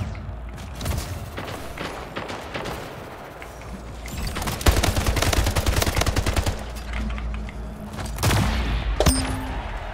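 Rapid bursts of automatic gunfire and single shots in a video game, loud and close, with rattling volleys that come in clusters and then pause.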